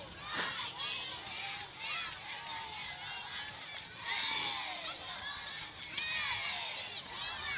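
Wildcat cheerleaders cheering during a district fair parade, high-pitched shouts and calls from a group at a moderate distance, faint overall, with crowd chatter and voices mixed in.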